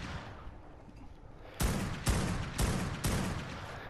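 Sniper rifle fire in ARK: Survival Evolved during a Manticore boss fight, four sharp booming shots spaced about half a second apart over a constant noisy game background.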